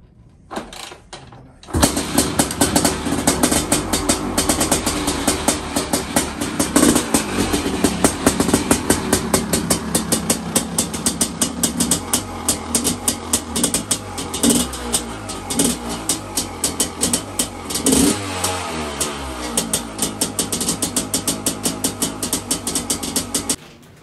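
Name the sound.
Honda CR500 motocross motorcycle engine running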